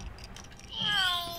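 A cat meows once in the LEGO Harry Potter video game, a clear rising-then-falling cry near the end after a moment of quiet game ambience.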